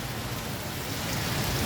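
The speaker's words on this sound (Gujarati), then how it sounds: "જોઈ લઈએ આપણે વિડીયો શેર કરો જો કેવો વરસાદ પડે જામનગર શહેરમાં" Steady rain falls over Jamnagar city, a dense, even hiss holding at moderate volume and swelling slightly toward the end, with no voices.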